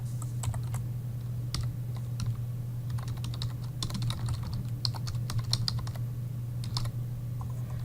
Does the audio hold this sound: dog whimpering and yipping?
no